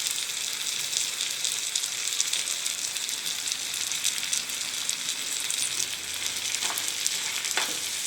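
Mutton chukka sizzling in a pan over moderate heat, a dense continuous hiss of frying that stays close and loud throughout, with a couple of faint utensil clicks near the end and no talking.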